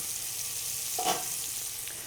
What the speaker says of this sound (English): So I have a pot of boiling water here.